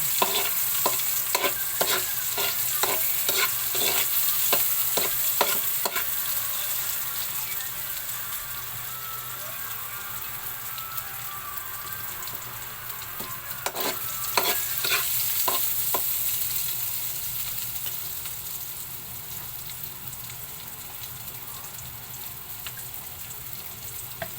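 Sliced onion frying in a pan, a continuous close sizzle broken by rapid rhythmic scraping strokes of stirring in two bursts, with no talk.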